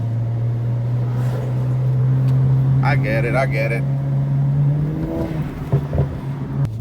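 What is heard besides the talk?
car engine accelerating uphill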